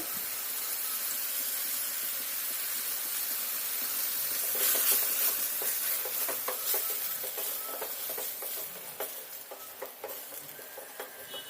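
Chopped tomatoes and curry leaves fry in a pan for an egg kurma. A steady close sizzle swells into busier crackling and popping, with occasional stirring and no talking.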